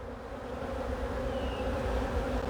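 Dense, steady buzzing of a large mass of honey bees at a bee farm in Baton Rouge, close and continuous throughout with no voices.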